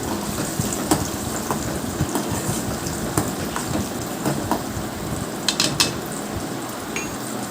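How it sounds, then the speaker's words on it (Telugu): Sliced onions and a couple of curry leaves frying in a pan give a steady, dense crackling sizzle with scattered sharper pops throughout, fairly close and continuous, with no talking. "ఇప్పుడు దోరగా వేగాలి."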